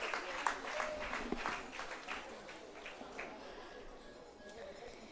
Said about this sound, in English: Let's clap for the junior guide as she comes.